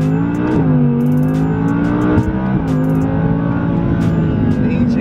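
An Audi R8 engine drones loud and close from inside the car, pitch climbing and dipping through gear changes under steady acceleration, with no voices.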